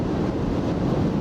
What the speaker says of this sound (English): Winds are going to be gusting between 50 to 70 miles an hour, wind sustained at 40 plus.